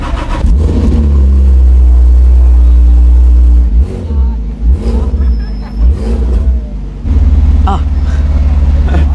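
A Fenyr Supersport supercar with a Ruf-tuned Porsche engine accelerates hard on a London street, a loud, close engine roar rising in pitch, dipping into brief surging revs midway, then swelling again, with voices mixed in.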